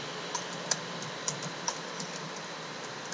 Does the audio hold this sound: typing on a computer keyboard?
yes